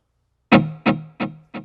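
A guitar note played through a Spark amp echoes in four decaying repeats tapped to an eighth-note rhythm, each one fainter than the last, with no other sound.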